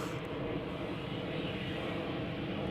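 An airliner lands at Amsterdam Schiphol Airport with its thrust reversers deployed. A steady, loud, broad roar holds throughout without pause, and no voices are heard.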